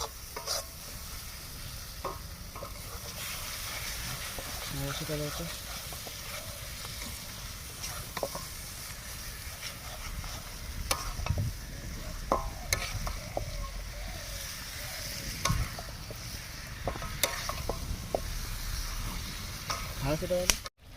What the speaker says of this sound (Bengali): সুন্দর তেল ছেড়েছে আমাদের মাংসটা কষা প্রায় হয়ে এসছে